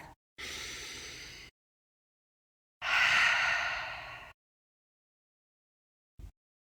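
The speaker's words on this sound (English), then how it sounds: "Again, inhale through your nose. Exhale through your mouth." Two slow, deep breaths during a beginner meditation, each a long breathy rush lasting about a second, close and clear, separated by silence, followed by a short faint click.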